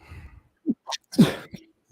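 Sneezing close up, a couple of sharp bursts with short breaths between, followed by a brief vocal sound.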